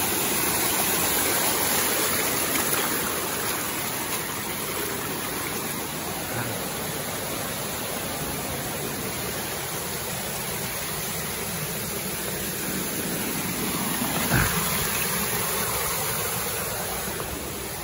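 Steady, loud broadband rush of water from Pag-ibig Falls, a waterfall with clear water, pouring continuously and close by with no voices over it.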